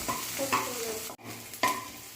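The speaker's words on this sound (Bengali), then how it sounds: "এবার একটি বেশ বড় সাইজের পেঁয়াজ কুচি তেলের মধ্যে দিয়ে দিলাম এবং পেঁয়াজটা নরম হওয়া পর্যন্ত পেঁয়াজগুলোকে ভেজে নিচ্ছি।" Chopped onion frying in hot oil with black mustard seeds gives a soft continuous sizzle, broken by a few scraping stirs of a spoon against the pan, close and fairly quiet.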